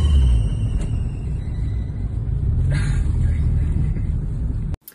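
Noisy alternator and power steering belts on a Mazda MX5 NB produce a steady, loud engine-bay rumble and whine running continuously, close by, ending abruptly near the end.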